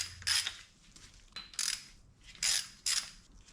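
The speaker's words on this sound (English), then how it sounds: "So I'm gonna take all these nuts off. Uh-oh, this nut doesn't want to come off." A ratchet wrench works stuck nuts off a B18 Integra engine, giving several close bursts of quick metallic clicking separated by short pauses, with no talk.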